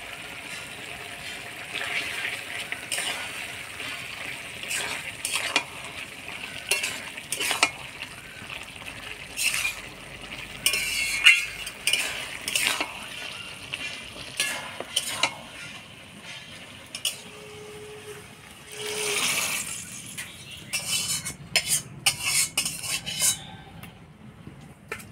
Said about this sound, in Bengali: এবার গরম মশলার গুঁড়া দিয়ে নাড়াচাড়া করে নামাই দেব।